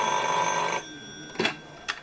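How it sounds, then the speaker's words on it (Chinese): A telephone rings briefly with a bright, steady electronic tone as a caller is patched into a live radio call-in show, followed by a couple of soft clicks as the line connects. "我们麻烦导播把电话切进来。"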